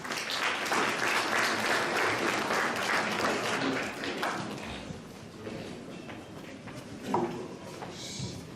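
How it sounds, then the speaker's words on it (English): Applause rises from the audience at a school event, moderately loud and dense for about four seconds, then dwindles to sparse clapping with a few thumps and shuffling sounds. "A round of applause."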